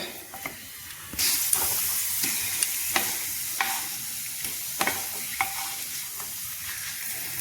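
Hot oil sizzles steadily as papad fries, a bright hiss that swells after the first second, dotted with sharp pops and crackles; no voices.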